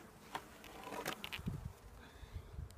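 Honey bees buzz around an open hive during a summer inspection of brood frames, a soft shifting drone with brief louder swells as insects pass close, over a faint background hum.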